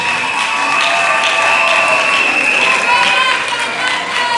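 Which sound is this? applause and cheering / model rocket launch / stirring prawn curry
applause and cheering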